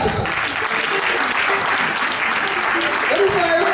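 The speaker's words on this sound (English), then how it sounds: "Let's clap for her." A crowd at a ten-year skill academy graduation ceremony claps steadily and loudly for a woman being honoured, a dense continuous wash of hands throughout, with a voice rising over it near the end.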